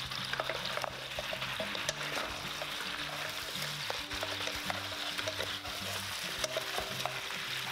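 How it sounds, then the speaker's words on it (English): Pork trotters frying over high heat in dark soy sauce and Shaoxing wine, a steady close sizzle with scraping stirs and utensil clinks throughout, no talk. "Turn to high heat, return the pork feet."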